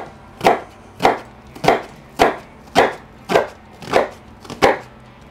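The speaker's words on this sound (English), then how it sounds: "I'm just gonna chop it up and see if I like the quantity that I'm getting" A knife chops through half an onion on a board in eight crisp, evenly spaced strokes roughly every half second, close and clear with no voices.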